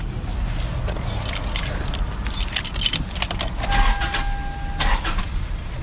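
Car keys jangle and clink in bursts close by, rattling over a low rumble of a car, with a faint steady tone appearing near the end and a voice speaking briefly.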